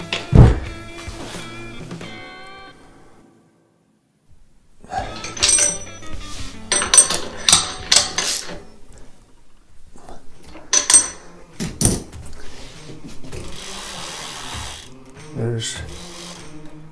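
A wrench loosens and tightens the wheel bolts on an SE Racing Blocks Flyer bike, with metallic ratcheting clicks, clanks and rattles that come close in bursts, broken by a short pause.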